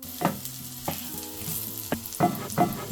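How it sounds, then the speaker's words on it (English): Butter, garlic and thyme sizzle in a hot pan alongside pork chops, a close, continuous frying hiss broken by several bursts of spattering and stirring, no voices. "Add butter, garlic and thyme, nothing aggressive."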